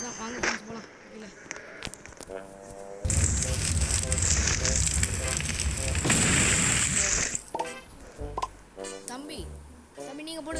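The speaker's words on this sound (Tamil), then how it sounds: "தம்பி நீங்கள் போடுங்க வெடிகுண்டு" Bomb blasts in the Roblox game Dig to Escape: a long, loud roaring burst of explosion noise dominates the middle, surrounded by game sounds and people talking.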